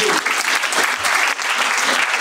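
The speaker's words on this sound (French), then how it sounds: "Merci beaucoup, on peut l'applaudir." An audience at a regional congress workshop on ecological transition breaks into loud, dense applause that continues steadily for the whole short stretch.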